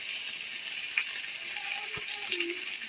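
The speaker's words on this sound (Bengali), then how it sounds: "তো সেটা মাছগুলো ভেজে নিই আমি" Tilapia pieces fry in hot oil, giving a faint, continuous sizzling hiss with a few small pops and clicks scattered through it.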